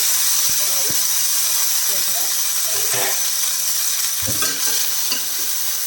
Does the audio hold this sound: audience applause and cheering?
no